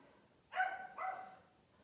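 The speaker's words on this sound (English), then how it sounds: "My dogs are barking." Two short barks from dogs indoors, somewhat distant and fairly faint, each a brief harmonic yelp separated by about half a second against a quiet room.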